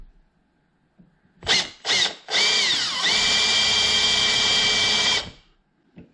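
A power drill with a 5mm bit drills out a rivet on a Rover P4 quarter light vent seal: two short revving bursts, then one sustained loud grinding whine of about three seconds before it stops.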